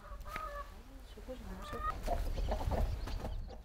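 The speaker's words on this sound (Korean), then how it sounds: "닭들 건사는 잘했을까?" Chickens on a farm clucking close by, a run of short repeated clucks and calls over a low background rumble and rustling, with no talk heard.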